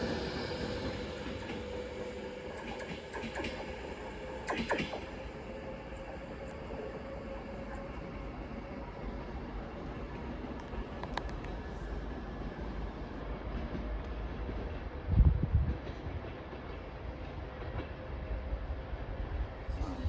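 A passenger train pulls out of Warrington Bank Quay station toward London Euston. Wheels rumble and clatter at a moderate distance under steady station ambience, with a few squeals and a brief thump near the end.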